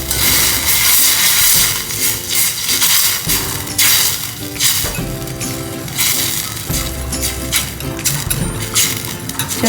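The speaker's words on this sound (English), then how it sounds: "we're just going to mix it with a whisk." A whisk mixes a honey-sweetened sauce for Kung Pao Brussels sprouts in a saucepan. Rapid, rhythmic metallic scraping and clinking runs loud and continuous against a sizzling background.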